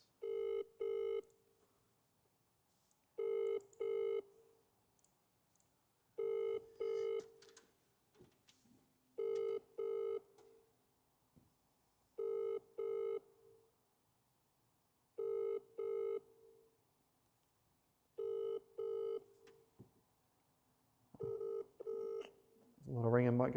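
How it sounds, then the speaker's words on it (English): A telephone rings in repeated double bursts with short silent gaps, eight cycles, during a Sunday live prize draw call that goes unanswered, fairly quiet and clean with a brief noise at the very end. "A lot of ringing might go to voicemail."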